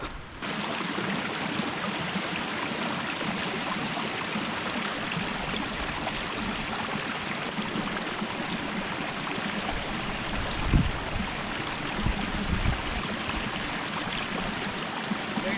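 A small hill stream below Conic Hill flows steadily, a continuous broad rushing wash of water with no pauses, heard close and fairly loud, with a few low thumps near the end.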